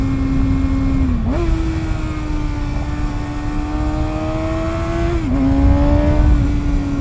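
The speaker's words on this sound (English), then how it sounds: "grabbing gears down is always a lot of fun on 600s like this" A Kawasaki ZX6R 600cc sport motorcycle engine drones loudly at high revs, and its pitch jumps sharply twice as the rider downshifts, with rev-matching blips between the gear changes.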